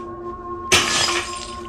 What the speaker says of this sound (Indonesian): Tam langsung emosi dan melempar toples itu sampai pecah